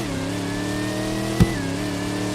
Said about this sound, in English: This car is slow as hell.